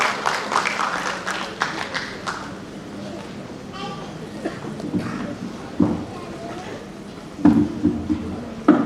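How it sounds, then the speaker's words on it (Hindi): Scattered applause crackles from an audience at an Independence Day cultural programme, strongest at the start and then thinning, with talking over the clapping. "ताली है इसके लिए।"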